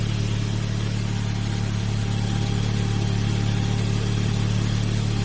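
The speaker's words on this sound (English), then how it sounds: "I've got the engine running." A car engine idles steadily during a service with anti-wear additive added, a constant low rumble close by with no speech.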